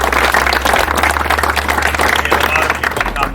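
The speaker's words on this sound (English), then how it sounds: "Big round of applause for Chirag." Applause from the audience at a neurosurgery residency graduation ceremony, a full sustained wash of clapping from a crowd with a low hum running underneath.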